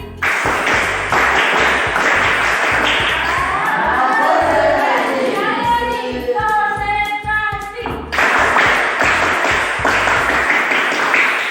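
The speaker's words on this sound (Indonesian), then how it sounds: "Tepuk konsentrasi" A classroom of students claps a rhythmic concentration pattern in unison, loud and near, with sharp repeated clap bursts at the start and end and chanting voices in the middle.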